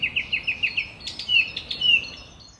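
A song thrush sings nearby: first a quick run of repeated bright, clear notes, then a varied phrase of sharper chirps over a quiet outdoor background.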